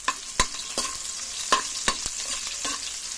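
Onions and garlic sautéing in a pan, a steady sizzle under sharp, irregular spatula clacks as the pieces get stirred.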